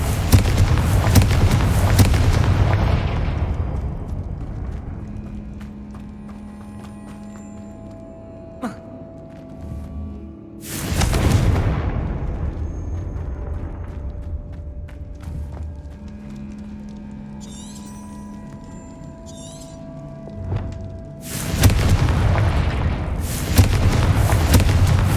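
Confringo spell explosions in the Hogwarts Legacy video game, three loud booming blasts spaced several seconds apart, each with a long rumbling decay and quieter game ambience between them.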